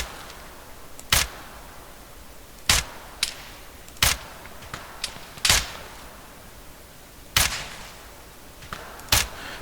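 Single rifle gunshots in the video game Arma 3, fired from about 400 meters away, six sharp separate cracks spaced a second or two apart, with brief echoing tails over a quiet background.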